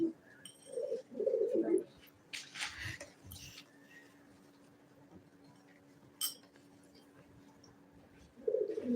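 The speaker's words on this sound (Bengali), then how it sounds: "আমাদের পাশে অনেকগুলো কবুতর আছে" Pigeons coo in soft, rounded bursts at the start and again at the end, fairly close by, with a few clinks and faint background sounds in between.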